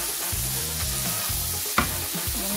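Flat beans stirred into mixed vegetables frying for sabzi bhaji, a close sizzle under rhythmic scraping strokes of a spatula against the pan, with one sharp knock midway and no talk.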